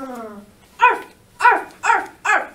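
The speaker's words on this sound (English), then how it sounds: "He can only bark." A dog barks four times in a regular rhythm, close and clear, after a brief low whine at the start; no one speaks.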